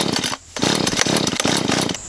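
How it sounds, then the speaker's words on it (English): Chainsaw engine running loud and close with a rough, steady buzz, briefly dropping out near the start and again just before the end, then roaring back. "Chainsaw time."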